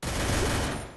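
Burst of rapid gunfire from a battle royale video game, a dense, loud volley filling the whole second before tailing off slightly at the end.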